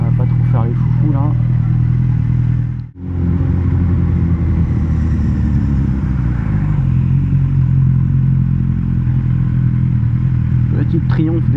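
A Triumph motorcycle passes in traffic over the continuous loud drone of another motorcycle engine, with a brief dropout early on and faint voices at moments.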